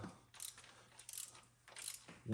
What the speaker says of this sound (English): have this set to 7 foot-pounds and just do it till it clicks